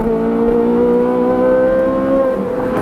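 A Ferrari 458 engine revs loud and close under sustained throttle, its steady harmonic howl holding and slowly shifting in pitch without any talk.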